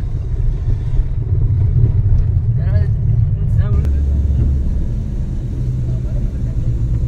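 A car engine runs beside a river on an outing to a waterfall, giving a steady low rumble throughout with a couple of brief, faint voice-like sounds partway through.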